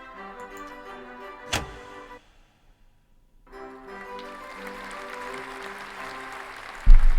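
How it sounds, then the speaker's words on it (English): Applause from the video game Sucker for Love swells over a sustained musical tone after a short silence, growing into a steady crowd clatter before an abrupt louder hit at the end. "Yeah, more applaud."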